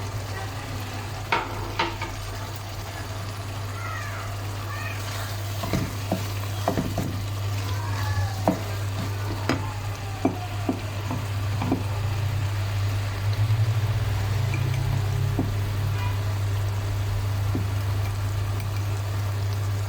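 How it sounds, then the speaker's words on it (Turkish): Bulgur poured into sizzling sautéed meat for a Turkish bulgur pilaf, a steady frying hiss under scattered sharp clinks and scrapes of stirring, with a low hum running throughout. "bunu et sosu gibi kavurduktan sonra bulgurumu döküyor"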